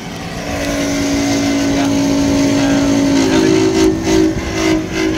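A failing motor in a Lennox packaged rooftop unit runs loudly with a steady droning hum and broad rushing noise, close and continuous, with some voices breaking in toward the end.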